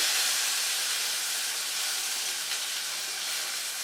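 Garlic, ginger, spring onion and tomato pulp fry in a pan for chicken thukpa, giving a steady, fairly loud broadband sizzle that holds evenly throughout with no talking.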